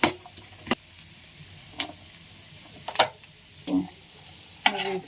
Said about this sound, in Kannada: ಇಲ್ಲಿ ಫ್ರೈ ಮಾಡ್ಕೊತಾ ಇದ್ದೀನಿ.